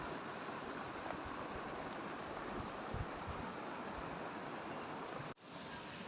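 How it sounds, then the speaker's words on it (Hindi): Steady broadband rush of water from a waterfall somewhere ahead along a forest trail, heard at a distance with faint bird chirps above it and a short dropout near the end. "मुझे किसी झरने की आवाज आ रही है, शायद आगे झरना है।"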